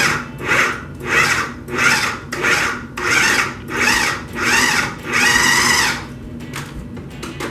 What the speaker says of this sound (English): I'm going to pulse that up just a couple of pulses until we get a nice coarse mixture